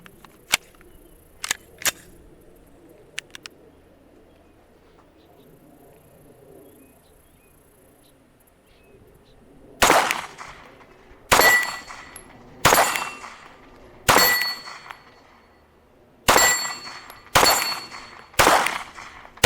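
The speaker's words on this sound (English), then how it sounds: "let's fire a couple shots" Seven loud, sharp gunshots from a Sig Sauer SP 2022 9mm polymer pistol, spaced roughly a second and a half apart, each with a short echoing tail, after a quieter stretch of faint outdoor ambience and a few small clicks.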